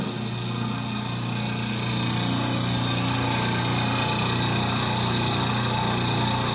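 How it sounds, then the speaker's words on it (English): An old gas pump's electric motor runs steadily and smoothly, a constant loud hum with a steady whine that holds without change throughout. "The motor sounds super smooth."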